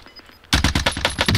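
Rapid bursts of gunfire from a powerful gun in Call of Duty Warzone, a loud close string of about ten quick shots that erupts suddenly after a quiet moment.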